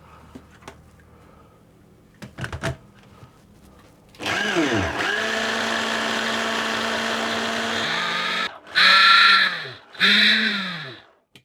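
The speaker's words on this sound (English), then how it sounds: "I'm actually just going to pulse those before I add the butter, just to get those mixed together a little bit" A food processor pulses tangerine zest for tangerine and cardamom shortbread: a loud, steady motor whir runs for about four seconds, then two short, sharp bursts follow, with no talking.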